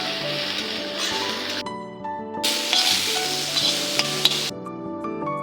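Grated bottle gourd stir-fried with spices in a pan, giving two long bursts of bright sizzling and stirring scrapes, with steady background music running underneath throughout.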